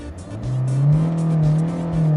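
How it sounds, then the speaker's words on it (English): A Kia Sonet diesel engine revs up. The pitch rises quickly, then holds at a high, steady drone, loud and close, with no talking. "this is a diesel motor"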